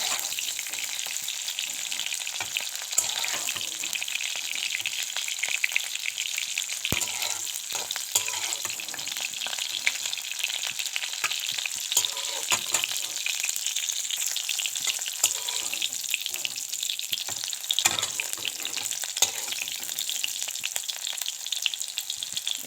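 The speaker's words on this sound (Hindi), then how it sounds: "इसी तरह मैं सब फूल गोभी ऐसे तेल में फ्राई कर लेती हूँ।" Cauliflower florets sizzle steadily in hot oil in a home kitchen, a constant close crackling hiss with occasional small pops, no talking.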